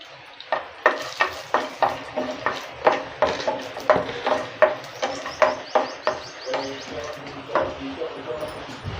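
Cashews fry in melted ghee, a soft sizzle broken by a regular series of sharp spoon-against-pan stirring knocks, close and fairly quiet.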